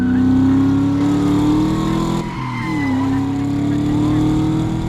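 A car speeds off in the 2011 film Drive, a loud close engine roar with rising revs, a brief dip, then renewed acceleration that holds strong to the end.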